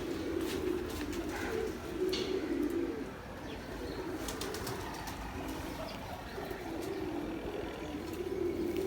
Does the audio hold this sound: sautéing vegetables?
no